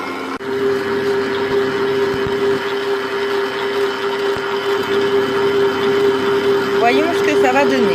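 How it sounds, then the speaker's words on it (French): A stand mixer whips egg whites for a chocolate genoise sponge, giving a steady, loud motor whir with a constant hum that runs unbroken the whole time, joined by a brief rattle near the end. "Mettez les blancs dans le robot, c'est plus efficace, ça va plus vite et puis c'est moins fatigant."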